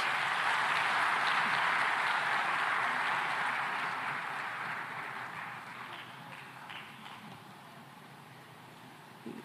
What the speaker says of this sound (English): let's give them a fantastic round of applause